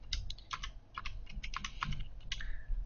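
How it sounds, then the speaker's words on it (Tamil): Keys on a computer keyboard clatter in quick, uneven bursts of sharp clicks, close and moderately loud, with brief pauses between short runs of typing and no speech. "பூஜ் கலிஃபா அப்படின்னு டைப் பண்ணி என்ட்ரு கொடுக்குறேன்"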